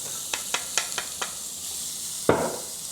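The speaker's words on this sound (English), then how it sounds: "add the lemongrass and the ginger to saute briefly" Lemongrass, ginger and onion sautéing in a pan for curry puff filling: a handful of sharp taps and clinks, then a sudden burst of sizzle that settles into a steady hiss.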